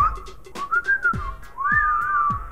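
A person whistles a wavering, breathy tune right after eating two crackers in a cracker-whistling challenge, close and clear, with a few low thumps in the background.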